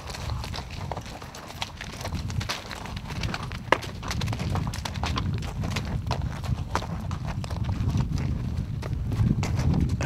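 Horse hooves clip-clop steadily at a brisk pace, close by, over a constant rumbling background with no voices.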